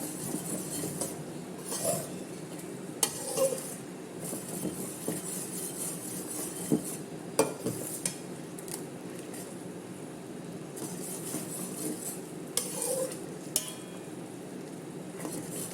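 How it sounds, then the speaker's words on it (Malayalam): Ada pradhaman, a rice-flake dessert, stirred in a pot with strained jaggery syrup, making soft, repeated scrapes and occasional clinks over a low, steady bubbling hiss. "ഇടയ്ക്കിടയ്ക്ക് ഇളക്കി കൊടുത്തു"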